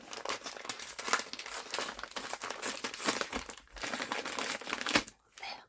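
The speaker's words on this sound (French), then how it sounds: "je vais faire du bruit avec le papier" Paper crinkles and crumples up close as an envelope is opened, in busy bursts of rustling and tearing that continue almost without pause.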